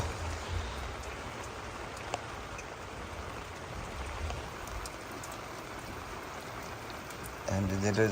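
Steady rain patters on a trawler boat in the Sundarbans, a continuous soft hiss with occasional louder drops, joined by a brief tonal sound at the end.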